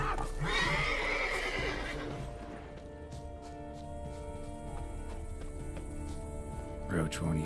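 Roach, Geralt's horse in The Witcher 3, lets out a loud shrill whinny near the start, then lighter hoof and ambient game sounds follow with a short snort near the end, over background game sounds.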